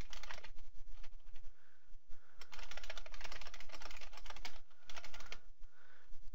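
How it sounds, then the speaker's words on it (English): Source code being typed on a computer keyboard, rapid irregular clicky keystrokes in dense bursts with brief pauses, close and clear with no talking. "Type our source code here."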